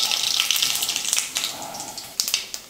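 Close crackling and sputtering of seeds popping in hot oil, with irregular sharp bursts over a steady sizzle.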